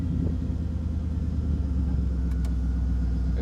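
A supercharged V8 in a 1933 Ford roadster hot rod idling with a deep, steady, loud rumble, with a couple of faint clicks over it and no talking.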